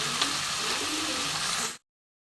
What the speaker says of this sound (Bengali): দেখো হাই ফ্লেমে চিকেনটা কিন্তু ভাজা হচ্ছে